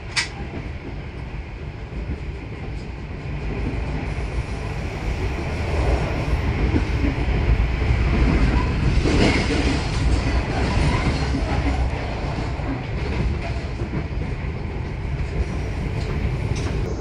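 An Indonesian local passenger train on the Malang–Surabaya line rolls out from Singosari station, heard from on board as a steady rumbling roar with rattling wagon noise and faint wheel squeal, growing slightly louder as it gathers speed.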